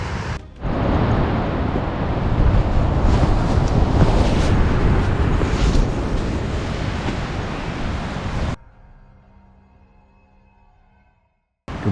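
Strong gusting wind buffets a microphone at a motocamping campsite after a windy night, a loud continuous roar lasting about eight seconds before cutting off abruptly into quiet.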